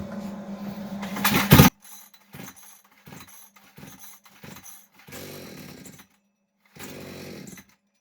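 A forestry-service gasoline chainsaw whose engine over-revs fires with a sharp, loud rev burst, then cuts out into a run of short sputtering pulls and brief coughs before catching again for two longer rough runs.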